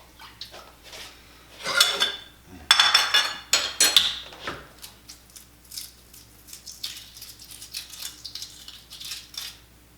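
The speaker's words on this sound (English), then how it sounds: "just let it sit for a second and we'll cut open the egg" A knife cuts open a jello-boiled egg on a hard surface, giving scraping and tapping sounds against a plate, busiest in a few clustered seconds before fading into soft, sparse clicks, close and fairly quiet.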